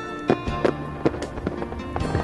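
Fireworks burst one after another at a seaside summer festival over the beach in Ito, sharp pops and crackles at an uneven rhythm over a continuous rumble.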